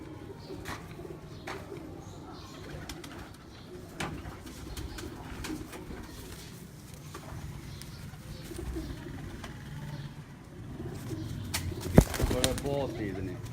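On a rooftop pigeon loft, pigeons coo softly in the background while people talk nearby, with occasional wing flaps and a sharp knock near the end.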